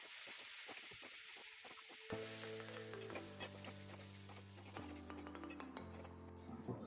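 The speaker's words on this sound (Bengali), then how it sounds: "ডিমগুলো ভাজার পর আমি ফুলকপিটা একটু ভেজে নেবো, হালকা ভেজে নেবো" Cauliflower fries in a pan after eggs in a home kitchen, with stirring, clinking utensils and a soft sizzle that steadies into a continuous crackle, faint and close.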